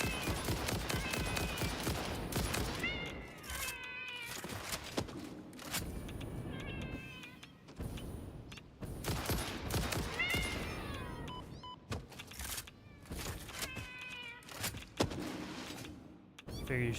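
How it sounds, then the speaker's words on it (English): Hostile cats meow and yowl repeatedly in a video game, mixed with dense gunfire and game effects, steady and loud throughout with voices talking over it. "And there's more evil kitties."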